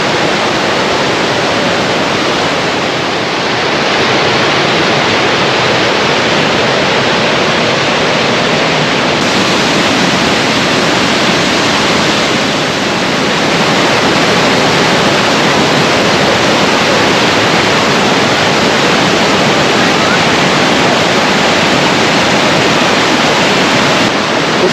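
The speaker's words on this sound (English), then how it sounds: "After 12 to 18 minutes, the water gurgles to the surface." An intermittent spring in Swift Creek, Wyoming, gushes loudly and steadily, a dense continuous roar of rushing water, close and unbroken for the whole stretch, with no voices.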